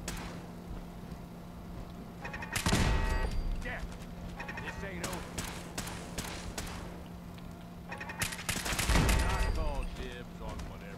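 Turret gunfire from an ambush in Fallout 4's Nuka-World, in two loud, close bursts of rapid shots about six seconds apart, set over steady game ambience with scattered smaller impacts between them.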